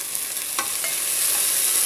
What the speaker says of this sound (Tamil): இப்போ இந்த வெங்காயம் நல்லா பொரிஞ்சிருக்குங்க